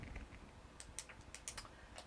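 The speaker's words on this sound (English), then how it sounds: "Oh, I'm clicking a pen again." A pen clicks repeatedly in quick, light taps at an irregular pace, heard close by in a quiet room while a mixed-media orchid painting is being made.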